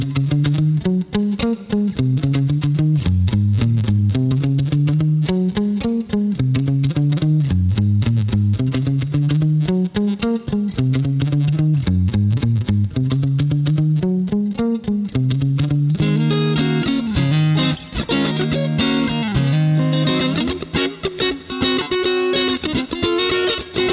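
An electric guitar plays clean, bluesy chord phrases through a room reverb with short decay and no chorus or delay, growing busier and brighter toward the end.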